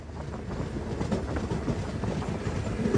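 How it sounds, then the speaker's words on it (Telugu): A passenger train on the Srinagar–Banihal line in snowy Kashmir gives a steady, close rumble with faint rhythmic wheel clatter, continuous and without talk. "ఆగింది, ఇప్పుడే వచ్చింది ఆ ట్రైన్."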